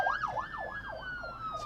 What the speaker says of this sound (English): excuse me while I just get out of the way of this ambulance